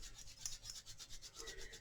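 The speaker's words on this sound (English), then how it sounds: "Rub, rub, rub." Palms rubbing together briskly in a fall-prevention yoga routine, a faint, close, continuous swishing with a steady back-and-forth pulse and no voices.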